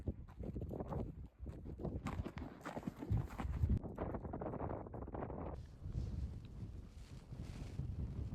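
Horses walking over flat Mongolian terrain, hooves clip-clopping in an uneven rhythm, faint and partly covered by gusting wind noise on the microphone.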